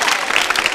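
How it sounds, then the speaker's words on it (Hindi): A short burst of dense, loud audience clapping at a college quiz show, the applause filling the whole moment without pause. "तालियां जोरों से बजाइए रितिका जी के लिए।"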